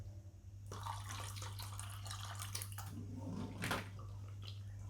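2K thinner trickles into a mixed batch of paint and hardener, a soft steady pouring splash with a few louder glugs near the end, close up over a low constant hum.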